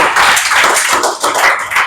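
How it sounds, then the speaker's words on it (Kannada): A group claps for a student at a government primary school quiz programme, giving a lively burst of applause with rhythmic, uneven waves of close hand claps. "ಅಭಿಷೇಕ್ ಅವರಿಗೆ ಮತ್ತೊಮ್ಮೆ ಚಪ್ಪಾಳೆಗಳು"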